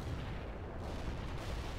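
Battle in the real-time strategy game World in Conflict, on a farmland skirmish map, with a dense, continuous wall of artillery and gunfire rumbling loudly throughout, with no clear pauses.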